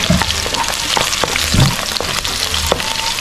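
Onions hitting hot oil in a pan as sautéing starts for a canned mackerel dish, a loud continuous frying crackle with scattered spoon scrapes and clicks throughout, close up and without speech.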